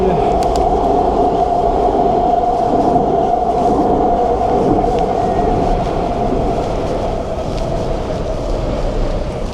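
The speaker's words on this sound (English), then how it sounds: "SkyTrain." A Vancouver SkyTrain rolling past on its rails, a loud sustained rumble with a steady whine and light rattling, heard close by for the whole stretch.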